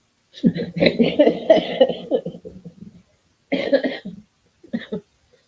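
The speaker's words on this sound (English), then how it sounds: "You're making my cough flare up." Someone coughs in a long, harsh fit, then after a pause gives two shorter coughs, loud and close.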